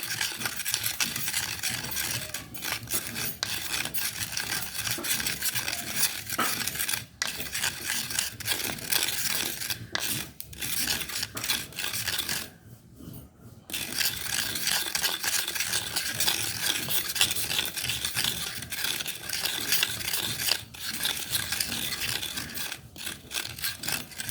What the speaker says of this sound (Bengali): ওদিক দিয়ে মা গুঁড়ো করে নিচ্ছি মশলাগুলো